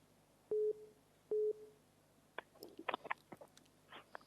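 A telephone busy signal sounds as two loud, evenly spaced tones after a call drops. Faint clicks and rustles follow.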